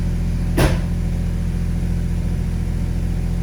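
Rebuilt 3.0L V6 in a 2000 Ford Ranger idles with a steady, low, even hum, broken once by a brief sharp sweep near the start, then settling back to a constant drone.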